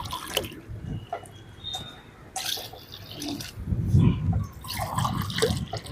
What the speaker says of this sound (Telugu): 3కి ఇప్పుడు నేను 6 గ్లాసులు అయితే వాటర్ పోస్తాను.